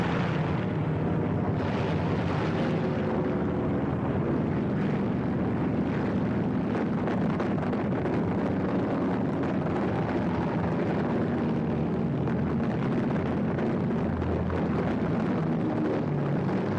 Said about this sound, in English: American torpedo planes arrive and attack.